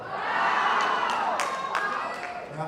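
A crowd at a spring school athletics awards ceremony lets out a drawn-out collective 'wow', swelling quickly and then fading, with a few sharper whoops and knocks.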